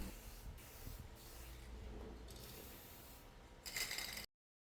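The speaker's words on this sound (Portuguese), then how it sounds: "Agora vamos aplicar o verniz universal em spray." Universal spray varnish hisses from an aerosol can onto wood for a handmade chess board, a short, bright burst at the end over a low, steady background rumble, then sudden silence.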